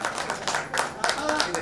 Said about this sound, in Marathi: कराड्यांसाठी टाळ्या होत्या.